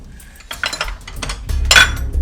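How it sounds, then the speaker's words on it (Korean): Dishes and cutlery clatter as they are stacked into a large bowl during washing-up, with a glass dish among them, giving close, loud clinks and knocks that build to a bright crash of overlapping clatter. "큰 그릇 위에 그릇을 올릴지 젓가락과 숟가락을 먼저 올릴지 결정해야 합니다."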